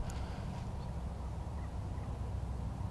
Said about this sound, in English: I hear turkeys over there too.